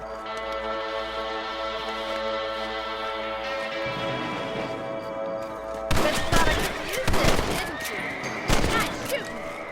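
Rifle shots at rabbits on a ranch in the Red Dead Redemption video game: a few sharp, loud cracks in quick succession burst over a sustained musical backdrop toward the end.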